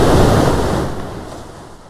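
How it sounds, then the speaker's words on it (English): Loud broadband wash of recorded ocean waves played back over a telehealth music therapy setup, a surf roar that gradually fades over two seconds, with no voices. "We can also do waves."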